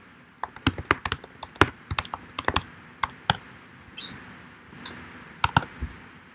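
Computer keyboard typing, close and crisp, in quick irregular bursts of keystrokes with short pauses between.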